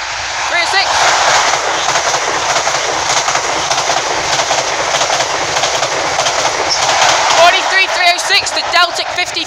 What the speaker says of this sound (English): HST coming through from Edinburgh to King's Cross.